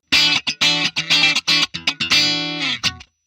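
Electric guitar with a clean, bright tone through the AmpliTube 5 CS amp simulator, a run of short picked notes followed by a sustained ringing chord that stops abruptly.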